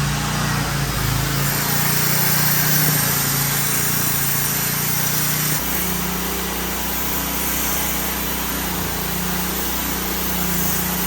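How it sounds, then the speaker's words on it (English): A generator running indoors in a house under construction while an angle grinder cuts a line, making a continuous loud high-pitched drone with a steady engine hum beneath, no talking. "now they're gonna cut a line using the generator and the grinder"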